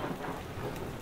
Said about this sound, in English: Oh, gross, it's raining.